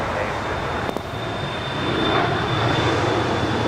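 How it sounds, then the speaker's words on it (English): United Airlines Flight 33, an airliner from Tokyo Narita, approaches LAX with a steady broadband jet roar that swells slightly, heard from a distance without other clear sounds over it. "That right there is United Airlines Flight 33 coming in from Tokyo Narita"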